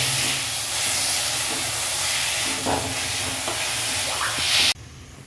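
Onions frying in a pan for home-style pav bhaji give off a loud, continuous sizzling hiss, broken by a few faint scraping stirs, and it stops abruptly near the end.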